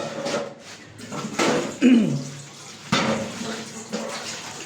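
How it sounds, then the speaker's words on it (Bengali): Rice being washed by hand in water in a home kitchen, with splashing, sloshing and the clatter of a pot or bowl, fairly close and uneven, and no talking. "এখন আমি আমার এই চাল ধুচ্ছি"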